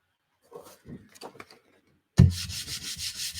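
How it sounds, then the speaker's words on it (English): Cloth wiping excess acrylic dye off lace: a few soft, scattered rubs, a short pause, then a firmer burst of quick repeated brushing strokes, close and alone. "just wiping up my excess"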